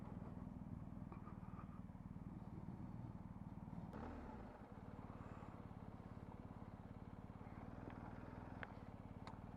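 A BMW R 1250 GS Adventure boxer-twin motorcycle engine runs at a steady, tractor-like low throb, fairly quiet and continuous, with a faint clatter midway.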